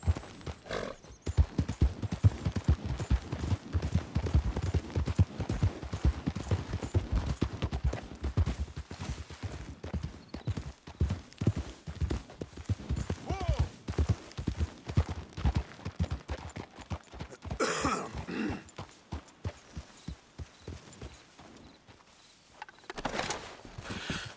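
A horse's hooves clip-clop in Red Dead Redemption 2. Fast, steady hoofbeats run for about twenty seconds, close and even, with the rhythm loosening briefly near the end.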